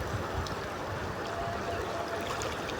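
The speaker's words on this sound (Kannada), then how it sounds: "ಗಂಗಾ ನದಿ ತುಂಬ ಮಳೆ ಬಂದಿರೋದ್ರಿಂದ ತುಂಬಿ ಹರಿತಾ ಇದೆ" The Ganga at Rishikesh runs full after rain, heard from beneath the new Lakshman Jhula bridge as a steady, dense rush of flowing water with no breaks.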